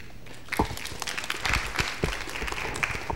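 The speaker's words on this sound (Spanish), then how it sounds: "un aplauso al grupo 1" Brief, faint applause for a group at a youth leadership workshop, a few scattered claps from a small room over a few seconds.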